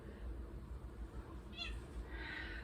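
A pet cat named Milky meows in a quiet room during an online math class, two short, faint high mews near the end over a low steady hum.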